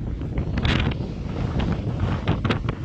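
Wind buffets a microphone on an open dune in southern Spain, a loud, rough rumble with gusting bursts throughout and no voices.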